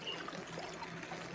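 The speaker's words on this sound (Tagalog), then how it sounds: "Baha." Floodwater rushing in a steady, continuous broadband wash, like a swollen river running through a flooded neighbourhood, loud and close with no pauses.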